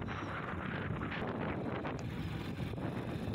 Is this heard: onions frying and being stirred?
no